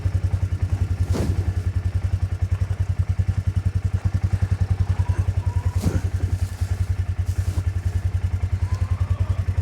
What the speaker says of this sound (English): I'll just get the tractor